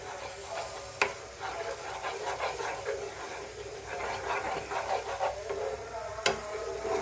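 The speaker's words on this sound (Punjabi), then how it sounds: "ਹੁਣ ਆਪਾਂ ਇਹਨੂੰ ਸਵਾਦ ਕੇ ਭੁੰਨ ਲਾਂਗੇ ਵਧੀਆ" Masala for chana daal frying in a pan, a steady sizzle with repeated scraping stirs and a couple of sharp knocks against the pan.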